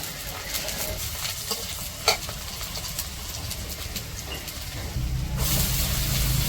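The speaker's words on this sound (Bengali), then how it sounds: "তো যে পেঁয়াজ কাঁচামরিচ ভাজা হয়ে গেছে" Onions and green chilies frying in a pan for a village dish, a soft continuous sizzle with occasional stirring scrapes and a brief clink, growing louder near the end.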